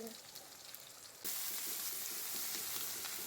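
Okra (bhindi) frying in a pan for a Ramadan iftar meal: a soft sizzle at first, then a sudden louder, steady hiss of frying that holds for the rest of the moment, with no talk.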